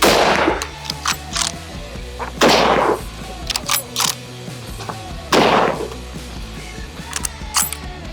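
Three gunshots in a row striking a steel armor plate, each a loud sharp crack spaced a few seconds apart, with ringing metallic mechanical clatter and handling noises between them.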